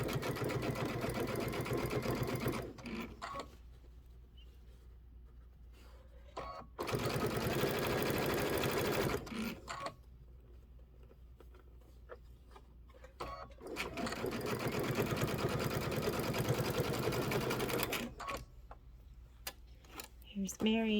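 A home sewing machine stitches fabric while a quilt block is assembled, running in three steady bursts of rapid mechanical whirring and ticking, separated by quiet pauses with soft handling noises.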